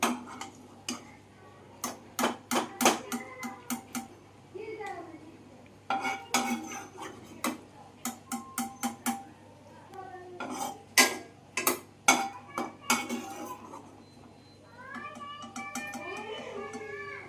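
A spoon scrapes and clinks against a metal pan in repeated sharp taps while fried onion, tomato, green chili, ginger and garlic are scooped out into a mixer jar, with brief pauses between bursts.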